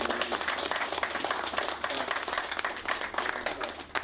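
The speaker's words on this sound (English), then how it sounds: "Now let's give a guy another round of applause." An audience at a nonprofit gathering breaks into a sustained round of applause, dense overlapping claps holding steady throughout with faint crowd voices beneath.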